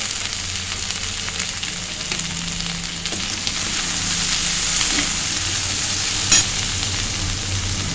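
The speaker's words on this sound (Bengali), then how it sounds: "তারপর বাকি মশলাগুলো দিয়ে কষতে থাকবো। একটু ভাজা ভাজা হয়ে গেছে।" Steady sizzling of spices and turmeric frying in a hot wok for a potato and cluster bean curry, with occasional stirring scrapes and a brief clink near the end.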